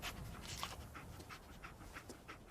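Dogmeat, the dog companion in Fallout 4, pants in quick, rhythmic breaths. The sound is close and soft, with no talk over it.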